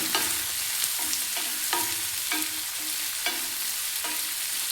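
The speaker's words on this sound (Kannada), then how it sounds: "ಈಗ ಇದಕ್ಕೆ ಹೆಚ್ಚಿಟ್ಕೊಂಡಿರ್ತಕ್ಕಂಥ ಹಸಿಮೆಣಸಿನಕಾಯಿ ಸೇರ್ಸೋಣ, ಹಾಗೆ ಕರಿಬೇವು ಸೇರ್ಸೋಣ. ಚೆನ್ನಾಗಿ ಮಿಕ್ಸ್ ಮಾಡೋಣ." Chopped green chillies and curry leaves are stirred into hot oil for mango rice. A spatula scrapes the pan in a steady series of distinct strokes, roughly one every half second, over a continuous close sizzle, with no voices.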